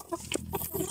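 Chickens cluck close by during a harvest of farm poultry, several short uneven clucks and squawks in quick succession at moderate volume.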